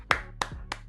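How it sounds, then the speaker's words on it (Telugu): Three sharp hand claps at even intervals, close and fairly quiet, with nothing else around them. "చప్పట్లు కొడుతున్నా నేను."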